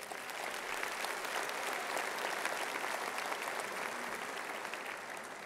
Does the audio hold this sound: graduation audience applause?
yes